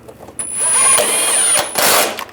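A power tool whirs in short close bursts, spinning down nuts on a headlight bracket of a 2013-2016 Dodge Dart: two high, steady runs, each ending in a brief rattle as the nut seats, with no talk over them.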